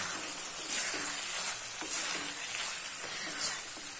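Boiled, chopped potatoes are stirred into ghugni frying in a pan: a steady, close sizzle runs throughout, with soft rhythmic scrapes of the spoon every half second or so.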